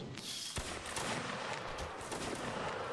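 Musket volley fire in a video game battle, a sharp crack of muskets going off followed by scattered, overlapping shots and a rolling din, fairly distant and ragged.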